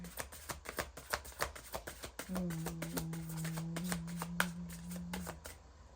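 Oracle cards shuffled by hand in a quick, steady run of crisp riffles and taps at close range, with a low steady hum joining partway through.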